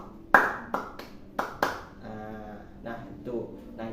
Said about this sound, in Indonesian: Tepuk tangan 1, tepuk tangan 2, tepuk tangan